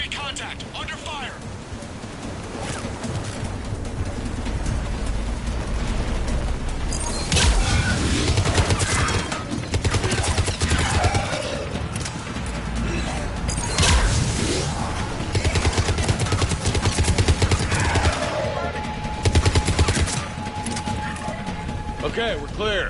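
Chaotic firefight gunfire in Mass Effect 3, with continuous bursts of weapon fire, whooshes and impacts filling the scene under intermittent dialogue.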